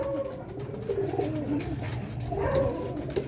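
Racing pigeons coo at their home loft after returning from a race, soft repeated murmuring calls close by over steady background noise, with no speech.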